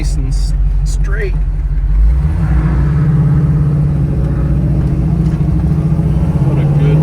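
A 1978 Pontiac Trans Am with a T-10 four-speed accelerates on the road, its engine a steady loud low rumble that climbs gradually throughout, with someone talking over it at the start.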